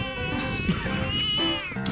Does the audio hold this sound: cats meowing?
yes